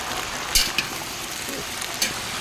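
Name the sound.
turmeric added to curry frying in a pan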